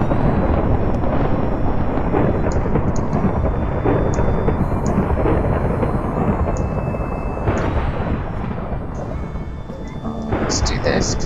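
Loud rolling thunder from lightning strikes in Minecraft rumbles heavily and continuously, with faint higher game sounds blipping over the top near the end.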